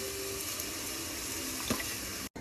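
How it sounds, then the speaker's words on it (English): Water from a tap pours steadily into a big pot of toasted dried split mung beans, a constant splashing rush that cuts off abruptly at the end. "add water."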